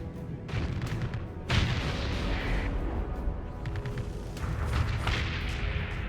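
Repeated booming missile and cannon fire from a space fleet engaging destroyers in a video game, with heavy thuds and crackling bursts rolling one after another, loud and continuous, without any voices.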